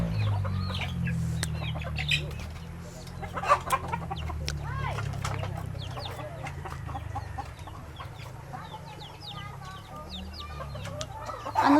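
Chickens cluck repeatedly nearby in uneven bursts, with occasional sharper squawks over a low background rumble.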